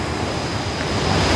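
A waterfall at a rocky outdoor spot pours with a steady, loud broadband rush of water that holds constant throughout, with no voices.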